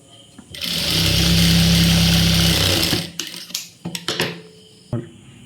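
An electric sewing machine runs a steady, fast whirring stitch for a couple of seconds while three blouse pieces are sewn together, then stops, followed by light handling clatter and rustling of fabric.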